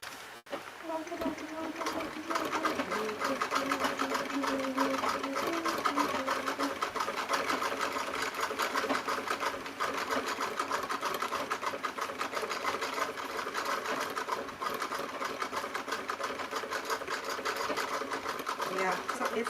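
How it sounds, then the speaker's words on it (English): A sewing machine stitching free-form squiggles in a quilting project, its fast steady motor and needle clatter running close and continuous throughout, with faint talk in the background. "fun sewing just giant squiggles without any rhyme or reason"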